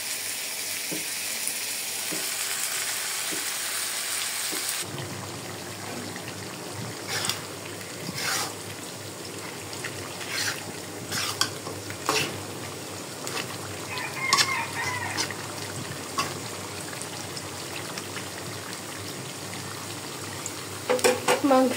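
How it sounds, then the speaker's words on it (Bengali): Meat for pulao fries in a pot with a soft, steady sizzle, broken by irregular scraping and clinking bursts as it is stirred, the heat hiss more prominent at first and fainter afterward. "মাংসটা কিন্তু কষানি হতে থাক"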